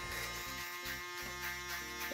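An electric hair trimmer running during a barbershop skin-fade haircut: a close, steady electric buzz that wavers slightly in pitch as it works, with no talking.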